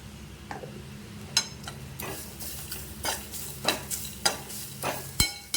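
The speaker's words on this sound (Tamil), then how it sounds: "இதிலே வந்து கொஞ்சமாக தேங்காய், போட்டு இதையும் கொஞ்சம் வறுத்துக்கலாம்." Grated coconut dry-roasts in a pan, with faint crackling and repeated spoon scrapes and taps as it is stirred, quiet and close.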